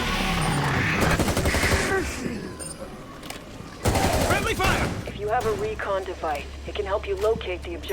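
Rapid gunfire bursts from the Rainbow Six video game crackle loudly through the first half, with game noise continuing while several people talk over it later on.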